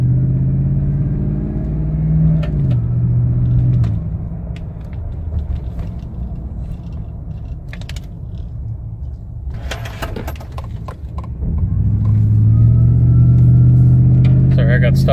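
A 2012 Toyota Tundra TRD Sport truck tuned past 600 hp, its engine rumbling low and steady inside the cab, dipping after a shift and then swelling louder toward the end, with clattering and a driver's voice at times.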